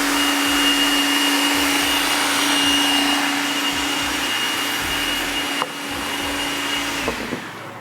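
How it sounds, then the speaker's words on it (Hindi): An electric blender runs continuously at a steady, loud whine while blending a fruit and vegetable smoothie, then slows and shifts pitch near the end. "ये अच्छी तरह ब्लेंड हो जाए ना तो फिर सही है जी"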